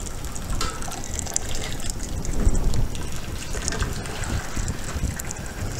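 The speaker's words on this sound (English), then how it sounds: "So I'm gonna brace it just to get the water out." Water pours out of glass canning jars during pickling, a steady splashing gush with a slight swell midway, heard alone without talk.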